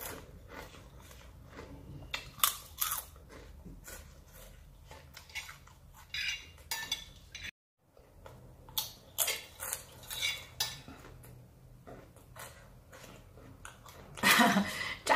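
Raw vegetables eaten with crispy crackers after a trip to a traditional market, giving repeated close crunchy bites and dish clatter in irregular bursts, with a brief pause midway and a louder cluster near the end.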